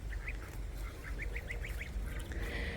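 Baby geese on a farm give a quick run of high, thin peeping calls, about eight short chirps in a row, faint over a steady low outdoor rumble.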